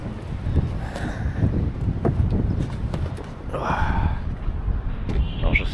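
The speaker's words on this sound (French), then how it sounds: "Il y a un peu de vent là qui rafraîchit." Wind blows across the microphone in an outdoor souk in Cairo, a steady rumbling buffet under background street noise and a few faint distant sounds.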